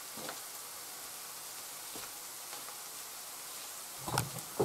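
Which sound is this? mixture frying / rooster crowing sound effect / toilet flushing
mixture frying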